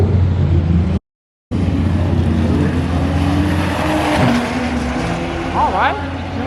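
Engines of two Toyota Supras roar at a drag strip, a loud sustained drone with rising tones as the cars run head to head, broken by a brief dropout.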